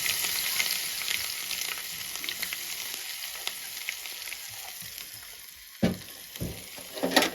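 Ground spice paste for pepper rasam fries in a hot pan, a continuous close sizzle that softens and fades before sharp bursts of crackling return near the end.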